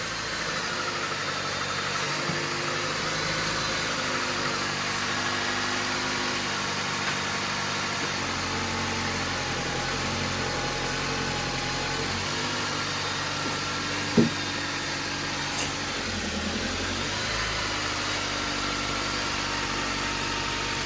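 2009 Jeep Compass 2.4L engine idling steadily, a close, continuous mechanical hum with a low rumble and faint whine, unchanging throughout apart from one brief click.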